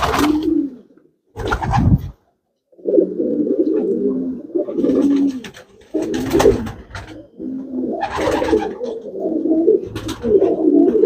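Long-distance racing pigeons coo in a loft in repeated low, throaty bursts, several birds overlapping close by, with short pauses between phrases.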